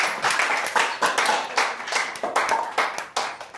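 A lecture audience claps in a short round of applause, a dense, close patter of hands swelling and fading in uneven bursts, with no talk over it.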